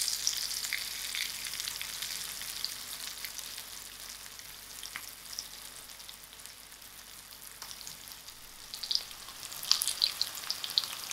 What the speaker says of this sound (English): I'll allow this veg fish to fry for about 3 minutes on each side.